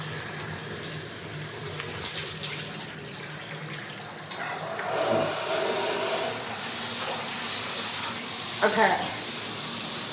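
Tap water runs steadily into a bathtub as a broad, continuous rushing flow close by, with brief knocks and splashes partway through and a short spoken word.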